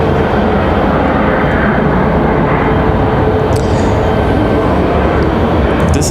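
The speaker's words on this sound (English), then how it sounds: "This is one of my favorite planes to shoot at night" Jet airliner engine roar at Raleigh-Durham International Airport at night, a loud, steady broadband rumble filling the whole stretch without a break.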